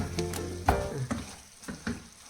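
Chicken cooking in a covered pan, sizzling quietly with a few distinct scraping stir strokes spaced through the short stretch, close and fairly soft.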